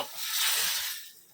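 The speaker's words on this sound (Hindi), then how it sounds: "तो इसको हम तड़का लगा देंगे" Hot oil tempering sizzles in a pan for a paneer vegetable curry, a brief broad hiss that swells and then fades over about a second, with no voices.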